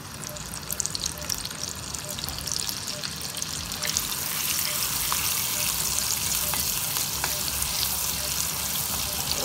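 Chopped onions with a pinch of asafoetida sizzle steadily in hot oil in a home kitchen pan for Marwari mixed dal with spinach, a loud continuous frying hiss with occasional stirring scrapes and no talk.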